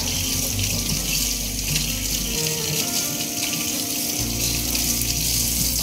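Warm tap water runs steadily from a faucet over a chalk paint brush being prepped, a loud continuous splashing rush that shifts briefly as the brush moves under the stream.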